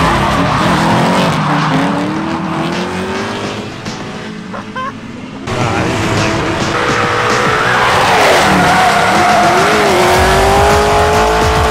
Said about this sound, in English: watch the drift car down the track.